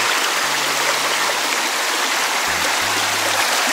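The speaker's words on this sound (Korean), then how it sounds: "매물 위로 지금 계곡이 지나가는 거예요" A clear mountain stream flows past a rural country property in Sancheong, South Gyeongnam, a steady, close, full rushing of water that carries on alone throughout.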